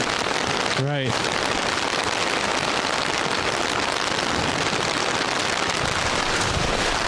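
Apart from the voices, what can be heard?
rain falling on a sports field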